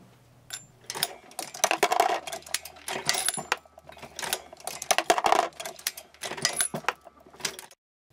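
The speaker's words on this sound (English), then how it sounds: "that was my own bullet feeder for under 100 bucks in action" A Lee bullet feeder mounted on a Hornady LNL reloading press drops bullets with repeated metallic clicks and clatters, working in an irregular rhythm of bursts and short pauses, close and alone.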